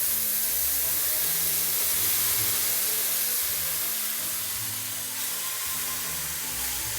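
Diced tomatoes sizzle steadily in a very hot pan during Chicken Provençale cooking, a broad continuous hiss and spatter holding at the same level throughout, with no voices.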